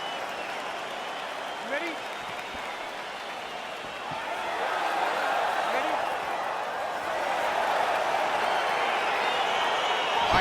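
Arena crowd in EA Sports UFC 4 cheering as a fight gets underway, a steady roar that grows louder about halfway through, with a referee's voice speaking over it.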